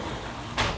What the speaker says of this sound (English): I'll take this opportunity to close the door as well